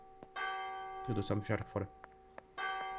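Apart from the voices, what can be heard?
midnight church bell tolling in video game Martha Is Dead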